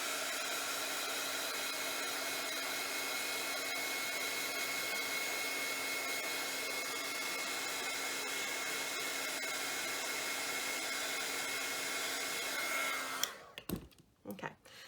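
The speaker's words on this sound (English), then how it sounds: "I'm just going to hit it with the heat tool real quick" A heat tool blasts continuously on a handmade paper flower, a steady loud hairdryer-like whoosh that runs for about thirteen seconds, then cuts off, leaving a few faint handling noises.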